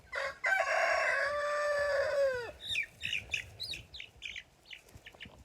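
A long, loud rooster crow rings out first, then young chicks cluck and chirp in short bursts close by, with no one speaking.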